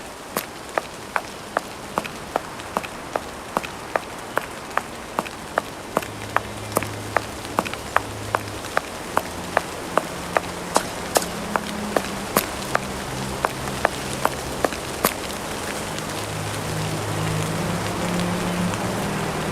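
Steady rain falling in the video game Sherlock Holmes Versus Arsène Lupin, a constant hiss under a regular series of sharp footstep-like ticks that fade out near the end, with a low hum in places.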